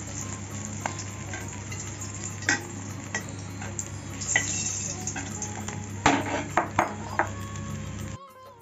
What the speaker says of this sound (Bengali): মাছ ভাজার তেলেই আমি আলুটা ভেজে নিচ্ছি